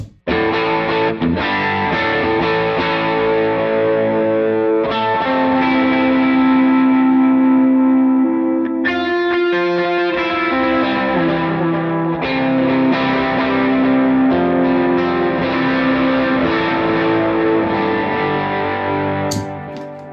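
An electric guitar played through an HX Stomp AC30 amp preset rings out in sustained, chiming chords and notes, washed in big reverb and a dotted-eighth delay that repeats each phrase. The tone stays loud and full from start to finish.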